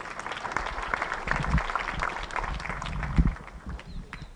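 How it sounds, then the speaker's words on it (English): Applause from a gathered audience at a memorial or family gathering, honoring John after a difficult reading; moderate clapping with some low thumps and background voices, steady over a few seconds. "Let's give him a round of applause."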